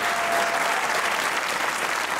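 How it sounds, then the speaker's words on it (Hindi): Dense audience applause fills the whole stretch in a comedy talk show studio, steady and loud with a faint murmur of the crowd underneath. "तालियां भाई इस बात पे, तालियां होनी चाहिए"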